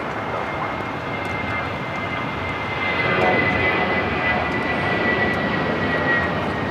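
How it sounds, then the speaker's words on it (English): An Airbus A320 operated by Volaris takes off from runway 25 right at LAX, bound for Oaxaca. Its jet engines give a loud, steady, broadband roar that swells partway through and holds without letup. "This is Volaris 7849 taking off to Oaxaca on the A320."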